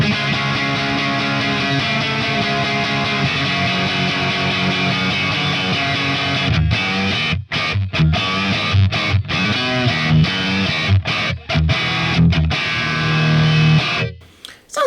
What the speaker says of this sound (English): Let's see what it sounds like with a little clone style drive.